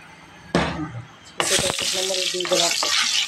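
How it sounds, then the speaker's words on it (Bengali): Onion, garlic and dried red chillies frying in a pan for a water spinach stir-fry, a loud bright sizzle that bursts in suddenly and keeps crackling with scraping stirs, while someone talks over it. "পেঁয়াজ রসুন শুকনো মরিচটা আমার ভাজা প্রায় হয়ে আসছে"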